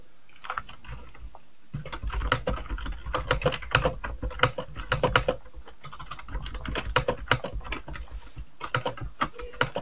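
Rapid, irregular keystrokes on a computer keyboard clatter close by in steady bursts with brief pauses, no voices over them.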